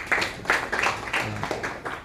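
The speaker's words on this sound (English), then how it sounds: "Let's give him a round of applause." An audience at an entrepreneurship bootcamp event claps in a steady round of applause, many hands patting together at close range with no voices over it.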